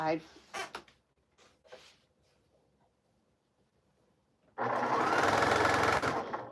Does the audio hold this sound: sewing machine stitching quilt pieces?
yes